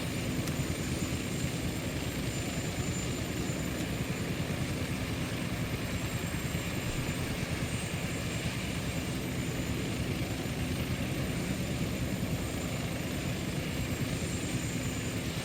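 Westland Scout/Wasp light helicopter in a flight simulator game, a steady, unbroken engine and rotor drone with a faint high whine, constant in level throughout and with no talk.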